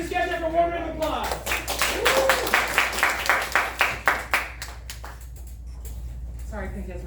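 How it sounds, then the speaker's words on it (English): An audience at a scene study class show bursts into applause after a brief spoken line: a quick run of rhythmic, fairly close handclaps that peaks, then thins out and fades as a voice returns. "just get there for one round of applause"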